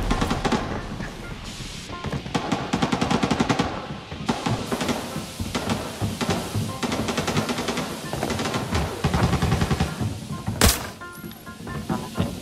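Rapid automatic gunfire in the shooter game Arena Breakout, loud dense bursts of shots with sharp transients stacked over a busy game soundscape, continuing throughout with brief pauses.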